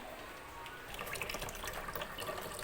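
Honey being stirred and diluted into about five litres of water, a continuous faint sloshing and trickling of liquid with no talking.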